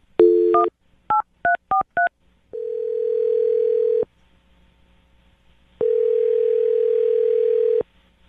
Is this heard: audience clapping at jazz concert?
no